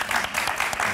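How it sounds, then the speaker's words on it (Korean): Brief burst of applause from a studio audience during a Korean Christian TV talk show, dense clapping for about a second with no pause. "우리 박수 한번 드립시다."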